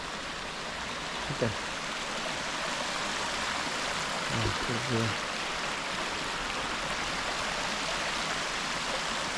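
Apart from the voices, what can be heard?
thermal spring water flowing into a river, Tuscany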